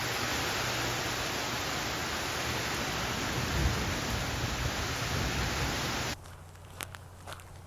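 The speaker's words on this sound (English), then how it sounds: "feel the rain on my skin" Steady rain hisses loudly as a dense, continuous wash, then cuts off abruptly near the end, leaving quieter ambience with a few taps.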